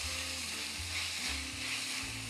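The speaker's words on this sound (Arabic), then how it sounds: "لكينا شوية زيت نباتي، بصلة مفرومة صح، أرنبيت مقصوص قطع صغيرة" Chopped onion and small cauliflower pieces fry in vegetable oil with a steady, close hiss that runs throughout, and low hums and clatter rise beneath it now and then.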